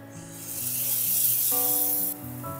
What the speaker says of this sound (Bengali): টমেটো পেস্টটা দিয়েও এই আদা রসুন এর সাথে ভালো করে ভেজে নিতে হবে।